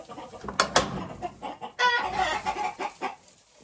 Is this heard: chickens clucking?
yes